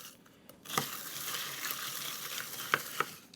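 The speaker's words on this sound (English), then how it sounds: "Now we fill our glasses with the crushed or shaved ice. Now give this a stir" A mint julep stirred over crushed ice in a glass, producing a steady close hiss and crackle of shifting ice, with a few sharper clinks against the glass and no talking.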